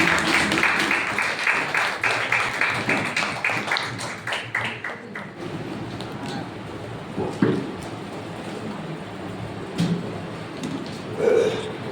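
A church congregation at a Women's Day Sunday service claps rhythmically to welcome the pastor, loud and even for about five seconds before fading into scattered room noise and a few voices.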